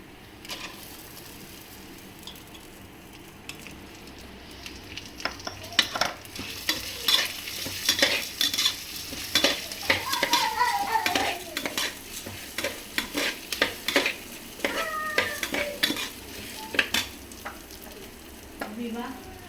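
Roasted lentils stirred in a dry pan, quiet at first, then a busy run of scraping, rattling strokes and clinks against the metal with a faint sizzle beneath, close and uneven.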